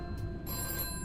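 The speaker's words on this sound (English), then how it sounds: "we get this phone call." A telephone rings in a Five Nights at Freddy's fan video game, a short burst of steady electronic bell tone over a low droning background, with no voices.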